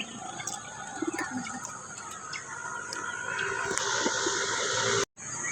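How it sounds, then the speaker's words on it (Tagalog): Outdoor birdsong at a pigeon-racing drop point in Bulacan, Philippines, with high chirps and whistles scattered over a steady hiss, including a barred rail's calls. Faint low sounds sit underneath, and a brief dropout comes near the end. "Ang ganda ng tunog ng kapaligiran dito guys, mga ibon"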